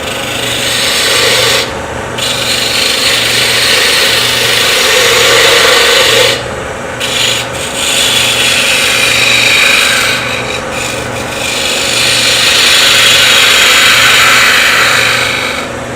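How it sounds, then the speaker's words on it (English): A shallow fluted gouge shapes a sycamore bottle stopper spinning on a wood lathe, giving a steady close rasping scrape over the lathe's low rhythmic hum, broken by a few brief pauses as the tool lifts off the wood. "So now I'll go on to my shallow fluted gouge, completing the shaping here"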